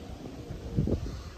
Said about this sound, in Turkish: Oh be, müthiş esiyor bu sefer.